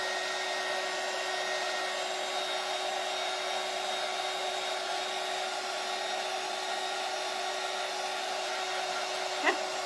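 A hair dryer blows on a painted bunny planter, a steady, loud, continuous whirring drone with an even tone from start to finish, close up and without pauses.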